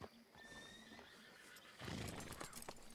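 A horse in the video game Red Dead Online whinnies with a high, wavering neigh, followed by a louder burst of hoof clatter and snorting close by.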